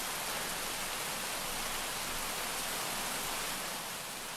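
Heavy, continuous rain roars evenly behind a bird recording, loud and unbroken, fading slightly at the very end.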